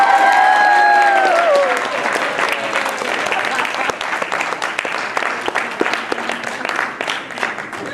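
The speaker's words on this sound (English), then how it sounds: "a big round of applause for Mr. Knox." Loud, sustained applause from a high school theater audience at a murder mystery production, with a brief whistle at the start and a crowd of clapping hands that slowly becomes more uneven.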